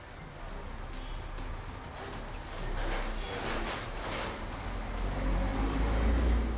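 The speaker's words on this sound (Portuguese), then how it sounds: "tá passando muito carro, muita moto." Many cars and motorbikes pass by outdoors, a continuous rushing traffic wash with swelling passes, moderately distant and fairly faint, a low rumble growing toward the end.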